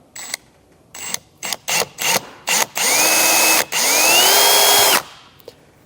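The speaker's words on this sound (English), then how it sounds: "I'm going to use an 1/8 inch drill bit and drill out this hole on top" A power drill with a 1/8 inch bit drills a hole, whirring in several short bursts, then running in two longer sustained pulls with its pitch rising under load, close and loud, no talking.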